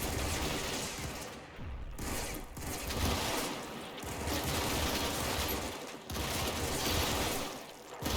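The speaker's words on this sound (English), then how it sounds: "I perform a section attack using suppressive fire" Sustained suppressive gunfire from a section attack in the wargame Combat Mission Red Thunder, dense overlapping rifle and machine-gun bursts with booming impacts rolling continuously, loud and steady with brief dips.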